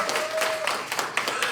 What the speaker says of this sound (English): One more time, round of applause for Felix Kojo Honoring Event.